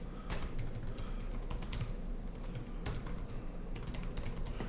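Keys clack on a computer keyboard as a website address is typed, bursts of close, crisp taps separated by short pauses, with no talking.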